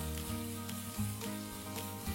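Seasoned shrimp are stirred in a frying pan, with a low sizzle and a few soft scrapes over a steady background hum.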